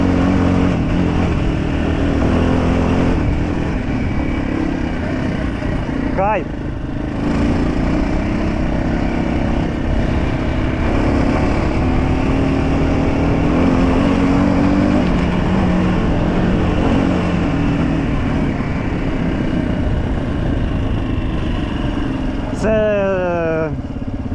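A motorcycle on the road gives a continuous engine drone mixed with rushing wind noise, while someone talks over it throughout.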